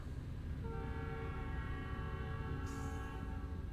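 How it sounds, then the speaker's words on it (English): A train in the middle of town in American Truck Simulator, its horn sounding a long, steady multi-tone blast over a constant low rumble of engine and rails, fairly loud and without voices. "Oh, and there's a train right in the middle of town."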